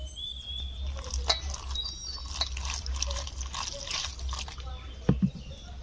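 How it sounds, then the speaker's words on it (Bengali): A little water is added to flour dough for lachha paratha and worked in by hand, giving soft, faint wet drips and squelches over steady low background noise, with no talking. "অল্প করে জল দিলাম ভালো করে মেখে নিতে হবে"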